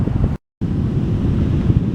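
Strong wind buffeting the microphone on an ocean beach with surf behind, loud and continuous apart from a brief dropout near the start, no talking.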